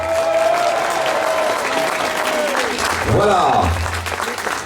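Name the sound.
crowd applause at Hastings reenactment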